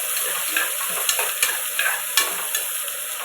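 Vegetable biryani masala stirred in a pan over a steady loud sizzle, with a series of scraping and clinking spoon strokes close by and no voices.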